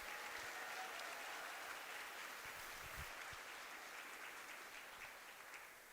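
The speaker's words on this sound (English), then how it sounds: "Please give a giant round of applause for all of our event volunteers." Crowd at the opening ceremony of a national jigsaw puzzle championship applauds, a soft, distant wash of steady clapping that gradually fades toward the end.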